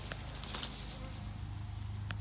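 Faint, steady buzzing of honey bees at an opened hive, a soft continuous drone with no talk.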